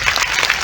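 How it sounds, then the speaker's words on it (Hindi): Crowd clapping at a political election rally, a short dense burst of applause from many hands, loud and close. "एक बार ताली बजा के बताइए।"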